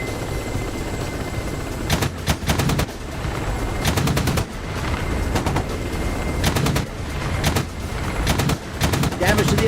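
Helicopter cannons firing in bursts during a DCS World helicopter dogfight, with repeated rapid clattering volleys over a steady rotor and engine drone, loud and close, with some speech mixed in.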